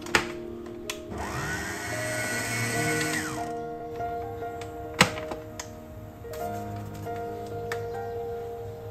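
A blender whirs up to speed and winds down, mixing carrot cake batter with cinnamon and cardamom. The steady motor whine lasts a few seconds, followed by quieter kitchen clinks and a sharp knock.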